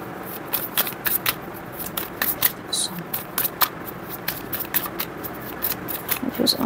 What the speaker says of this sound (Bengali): আপনাদের সামনে আমি কার্ড সাফল করছি।